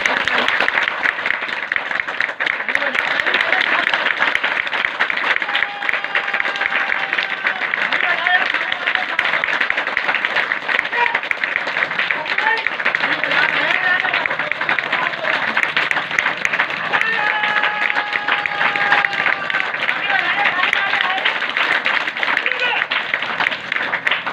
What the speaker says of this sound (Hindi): 3 पर ताली सबको बजाना है 1 2 3।